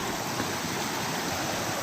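A woodland stream on the Appalachian Trail flows in a steady, broad, rushing wash with no voices.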